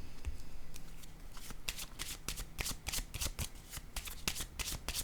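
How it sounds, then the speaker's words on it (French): Tarot cards are shuffled by hand, a dense run of crisp riffling flicks and slaps with cards set down on a table, close and fairly quiet with no talking. "Je vais déposer une carte sur ces deux-là."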